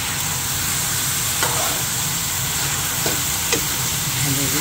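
Food fries in a pan with a steady sizzle, and a utensil stirs it, making occasional scrapes and clinks close by.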